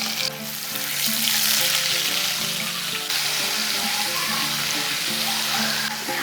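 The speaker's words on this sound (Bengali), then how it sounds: "আদা বাটাটা হালকা করে ভেজে নিয়েছি" Ginger paste fries in a pan for a spinach and mung dal dish, giving a steady, close sizzle that runs the whole time with light stirring and no talk.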